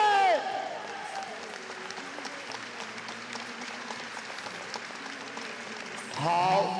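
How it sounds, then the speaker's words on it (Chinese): Spectators in a baseball stadium applaud in a broad, steady wash of clapping that fills the space, with an announcer's amplified voice heard at the start and end. "我们是不是再一次给最热烈的掌声，来为我们的海王英雄，为我们的炳宏加油"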